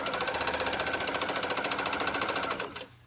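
A serger sewing machine runs at steady high speed stitching the gusset seam of a pair of tights, a fast regular mechanical whir that slows and stops near the end.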